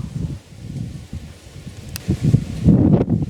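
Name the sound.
wind blowing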